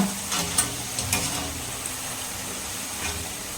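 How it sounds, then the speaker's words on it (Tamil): Fresh green turkey berries (sundakkai) deep fry in hot oil, a soft continuous sizzle with a few brief clatters of stirring early on, fairly quiet and without speech. "ஃப்ரெஷ்ஷான சுண்டைக்காய் ஆயிலில் வந்து நம்ம டீப் ஃப்ரை பண்ணும்போது"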